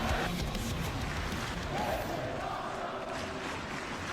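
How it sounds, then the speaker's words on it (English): A wrestling arena crowd chants during a live televised match, a broad steady roar of many voices filling the space throughout without any single voice standing out. "you hear what they're chanting"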